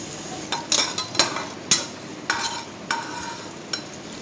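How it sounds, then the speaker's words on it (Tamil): Chopped ginger sizzles and crackles in hot ghee, with a utensil scraping and stirring the pan every half second or so. No voices. "அதில் ஃபஸ்ட்டு இஞ்சியை போட்டு கொஞ்சம் நல்லா ஃப்ரை பண்ணிக்கலாம்."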